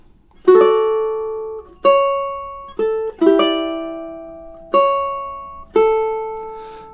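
Ukulele plucking the opening two measures of the romantic classical piece "Bella Vita", about seven clear ringing notes and chords, each decaying before the next, played alone.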